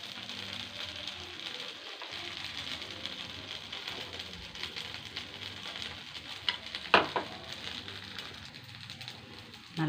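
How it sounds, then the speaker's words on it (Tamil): Sweet potato paniyaram batter poured into a paniyaram pan, hissing and sizzling softly and steadily, with a sharp clink of a utensil partway through. "இப்போது கொஞ்சம் லைட்டாக ஊற்றிப்போம் மாவு."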